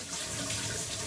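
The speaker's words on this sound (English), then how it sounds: "the whole idea is to turn on the cold water," Cold shower water runs at full flow, a dense, steady hiss of spray filling the whole moment without pause, close and fairly loud.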